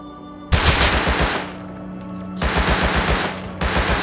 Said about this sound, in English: He's shooting at me with fucking explosive ammo.